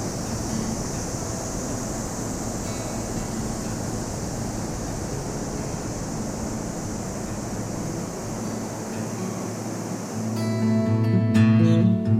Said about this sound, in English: the name growling simply comes from the sound a sinkhole makes as large volumes of water fall into its